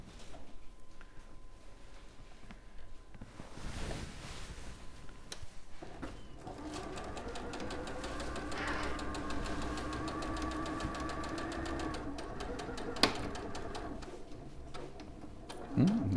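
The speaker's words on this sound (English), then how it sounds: "That pin you just sewed over?" A sewing machine stitching a Sanderson squirrel quilt, its needle running in a quiet, rapid ticking rhythm that starts and stops in bursts, with some talking before it gets going.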